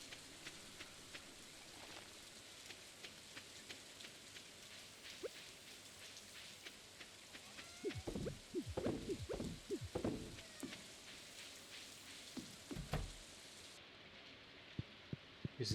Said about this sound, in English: I've been outside in the rain all day